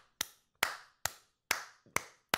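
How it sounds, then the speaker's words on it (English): Loud clapping from monsters in the Garry's Mod sandbox game, six sharp evenly spaced claps in steady rhythm, each followed by a short ringing decay, with no talk. "pretend that we don't hear those loud clapping noises in the background"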